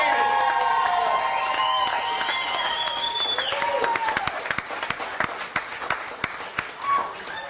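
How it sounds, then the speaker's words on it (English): A crowd at a live contest show applauds and cheers for the contestants, with whistles and whoops over steady clapping that thins into scattered claps toward the end. "big round of applause to all of our contestants from all areas"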